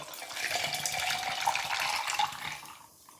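Liquid pours into a glass holding red grapefruit and lime juice for a Paloma cocktail, a steady close trickling splash lasting nearly three seconds before it tapers off into quiet, with no talking.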